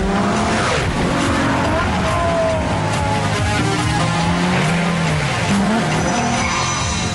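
A Ferrari LaFerrari Aperta roadster supercar drives hard, its dense, loud engine roar continuous throughout, with tire noise and a voice faintly underneath.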